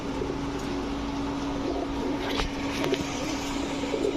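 Pigeons coo in a loft where fancy breeds such as Teddy, Laldom, Chila, Damascene and Budapest are kept, low murmuring calls under steady background hiss with a few faint clicks, no talk.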